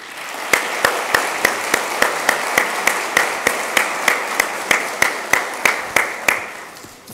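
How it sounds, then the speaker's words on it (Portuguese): Scattered claps from a small audience at a Brazilian internet conference opening, roughly evenly spaced, with a faint crowd wash beneath them. "Uma salva de palmas para ele."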